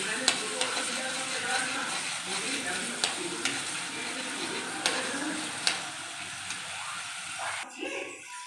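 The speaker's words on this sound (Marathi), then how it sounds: "खोबरं लसण अद्रक आणि कांदा त्याचं वाटण छान परतून घेऊया" A paste of coconut, garlic, ginger and onion sautés steadily in hot oil for a vegetable curry with drumsticks, a constant near sizzle with scattered stirring clicks and scrapes, then stopping abruptly near the end.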